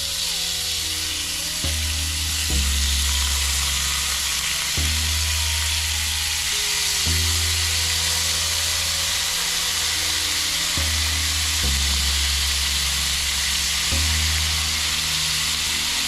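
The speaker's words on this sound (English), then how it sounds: "Now we're going to just turn them down, the meat side, the flesh side down on the skillet." Lobster halves fry flesh side down in a skillet with a steady, close sizzle and hiss, while a low droning hum cycles on and off in regular stretches underneath.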